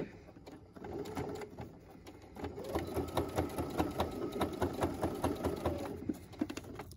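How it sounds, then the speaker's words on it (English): A sewing machine runs a straight stitch along a fabric face mask, starting with a few hesitant clicks before settling into a rapid, steady mechanical chatter for several seconds and stopping near the end, close and alone. "For the purpose of this, we're just doing a straight stitch."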